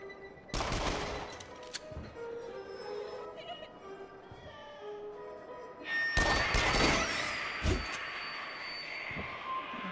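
Gunfire in the Rush of Blood video game, bursts of rapid shots at about half a second and again from six to eight seconds, with someone talking in between.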